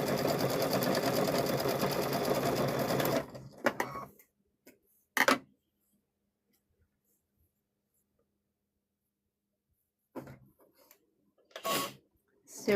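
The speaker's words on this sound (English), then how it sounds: "So let's go ahead and sew all these corners together." A sewing machine runs in a fast, continuous burst while stitching the corners of fabric for microwave bowl koozies, then stops, leaving silence broken by a few short clicks and handling knocks.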